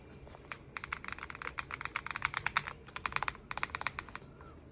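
Typing on an S99 wireless mechanical keyboard gives a steady run of crisp, close keystroke clicks in an irregular rhythm, with no voices over it.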